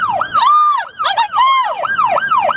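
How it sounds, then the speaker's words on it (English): A loud, close emergency siren wails and yelps in rapid rising and falling sweeps, continuous throughout. "the baby hears the siren, wakes up, and is upset by it"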